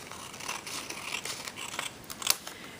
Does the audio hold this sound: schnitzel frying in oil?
no